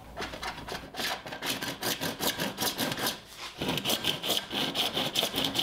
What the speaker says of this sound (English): I'm gonna cut some rings out of the pipe of my three sizes.